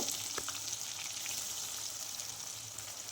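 Whole spices frying in hot oil and ghee, a continuous hissing sizzle with faint crackles and pops, steady and close, with no talking.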